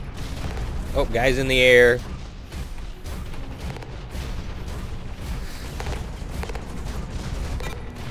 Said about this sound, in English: we got some bouncy rockets here